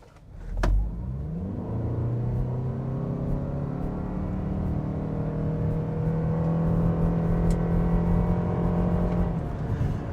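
A 2026 Toyota RAV4 XSE hybrid SUV in sport mode accelerates at full throttle from a standstill, with a sharp initial thump followed by a steady, rising engine and electric-motor whine that climbs in pitch for about nine seconds before easing off.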